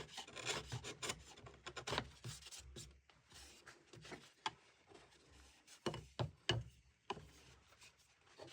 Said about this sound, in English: The rest I can do with a knife.